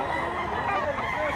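A father's 3.5-year-old rooster clucks and calls close by in a short, busy burst of fowl sounds, with a faint human voice in the background.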